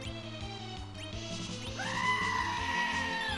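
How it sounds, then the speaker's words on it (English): A goat scream sound alert plays on a livestream: a long, loud, wavering bleating scream rising midway and held, over steady background game music. "thank you for redeeming that goat scream"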